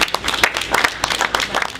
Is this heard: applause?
yes